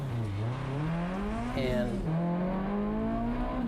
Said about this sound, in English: So when the green flag drops, Alex is going to take off